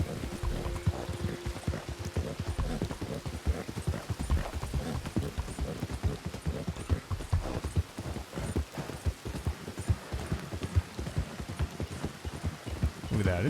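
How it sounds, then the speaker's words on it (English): A horse in a Wild West roleplay video game clip-clops steadily through the rain, with continuous rhythmic hoofbeats over a dense patter of rainfall. "Nice ride in the rain here."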